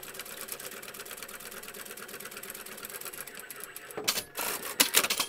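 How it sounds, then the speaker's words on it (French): A sewing machine runs a seam on a small round double-zip pouch made from recycled patchwork fabric, giving a steady rapid close stitching chatter that turns into uneven bursts and handling clatter near the end, no speech. "Et vous allez faire votre couture."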